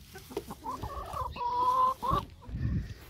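Backyard chickens cluck and squawk up close in a short, lively burst of several calls, with a low rustle at the end.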